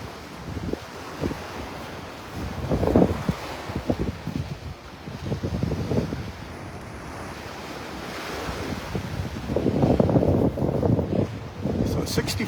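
Breezy northeast wind blowing across a beach in North Naples, Florida, with steady wind rumble against the microphone and surf washing in surges around the middle and the end.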